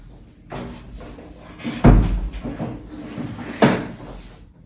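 Several knocking, thudding bangs of doors or cupboards being opened and shut, one especially loud slam near the middle, with faint background noise.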